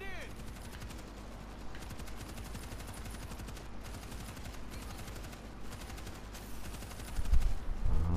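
Rapid continuous gunfire in the zombie shooter World War Z Aftermath, dense automatic bursts running steadily throughout with heavier booms near the end, and players talking underneath.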